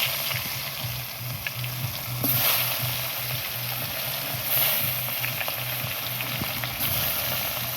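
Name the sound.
fish frying in hot oil in a wok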